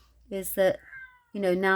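A house cat meows twice in quick succession close by, followed by a longer drawn-out meow, with someone talking softly around the calls.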